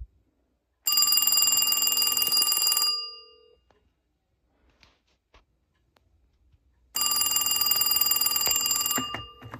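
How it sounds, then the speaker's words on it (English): A vintage late-1970s Western Electric Trimline rotary phone rings, a loud, close metallic bell burst lasting about two seconds, then a pause with faint handling clicks, then a second ring. "So I'll give you the ringing sound right here."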